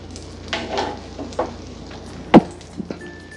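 An omelette fries in a pan, a soft steady sizzle broken by a few scraping and clattering touches of a utensil, with one sharper knock near the end.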